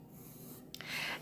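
A pencil scrapes diagonal lines across paper in a short burst of dry scratching strokes, close and fairly quiet, after a moment of near silence.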